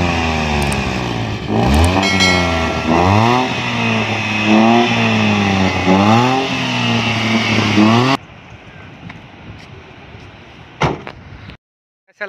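A car races in a Scorpio vs modified K10 contest, its engine revving up and easing off again and again in loud, close surges. Then it drops to a quieter, steady road rumble, with a sharp knock near the end.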